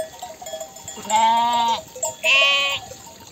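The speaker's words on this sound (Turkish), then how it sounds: "Şunlar yeni aldığımız koyunlar." Newly bought sheep bleat twice, the first a long wavering call and the second shorter and higher, close by in a quiet summer upland pasture.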